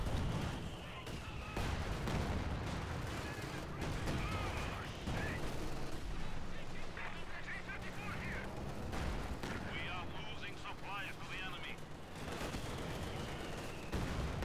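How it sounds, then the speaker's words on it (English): Artillery-style explosions and shell impacts from a 120mm mortar in the strategy game Company of Heroes 2, a dense continuous battle din with repeated booms and blasts, with a commentator talking over it. "120mm mortar doing its thing"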